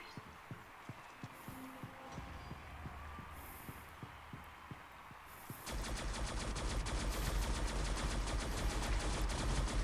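Video game gunfire from a Project Embra MK II weapon, first a quick series of evenly spaced sharp shots, then a denser, louder stretch of rapid fire with continuous game noise.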